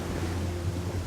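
Big waves on a rough open sea, a loud, continuous roar of surf blended with heavy wind buffeting, close and unbroken with no voices.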